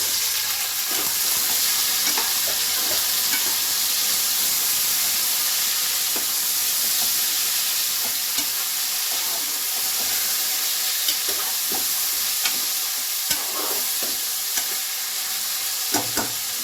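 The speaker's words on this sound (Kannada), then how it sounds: "ಇವಾಗ ಚೆನ್ನಾಗಿ ಫ್ರೈ ಆಗಿದೆ ಆನಿಯನು" Onions fry in a pan of oil with a dense, continuous sizzle, broken by occasional clicks and scrapes of a spoon stirring them, close and fairly loud, without speech.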